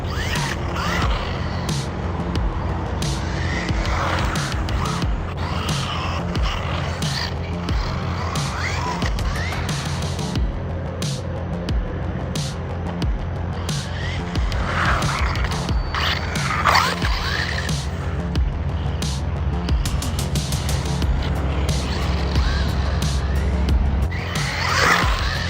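An RC car fitted with AIMROCK tires drives hard and fast, its motor whining continuously while the tires squeal and skid over a steady rumble, loud and close throughout with no voices.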